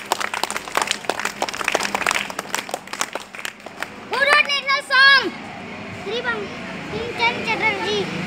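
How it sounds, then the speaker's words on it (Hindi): Schoolchildren clapping for a classmate in a classroom during a lesson on India's national symbols, sparse hand claps mixed with kids' chatter and shouts, and an adult voice speaking over them. "इनके लिए ताली बजाइए जोर से।"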